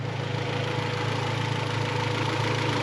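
A Honda Civic with a G23 VTEC engine swap idles steadily, a close, continuous engine hum with a fast, even pulsing throughout and no voices.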